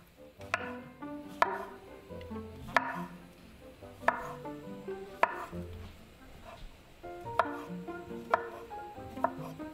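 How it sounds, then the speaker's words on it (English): Mushrooms being chopped with a knife on a cutting board in a home kitchen, a series of crisp, close knife taps in an uneven rhythm with quiet pauses, no talking. "Next, I chop up some mushrooms."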